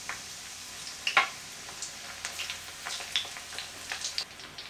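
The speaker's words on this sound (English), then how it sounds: "going to fry them. Let's see if my oil is hot. My oil is definitely hot." Fish shallow frying in hot oil crackles and sizzles quietly, with scattered sharp pops and spits over a soft, steady hiss.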